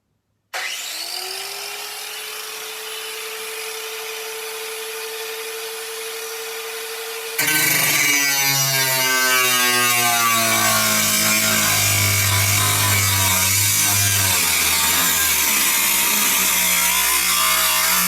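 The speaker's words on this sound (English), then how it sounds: "so that I can grind through the rib of the van" An angle grinder spins up to a steady whine, then bites into the metal rib of a van, turning into a loud, harsh, rasping screech that continues to the end.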